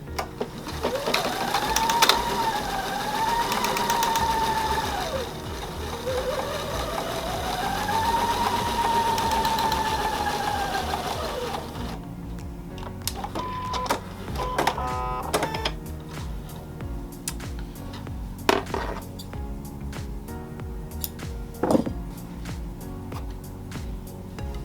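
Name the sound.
sewing machine stitching a quilt seam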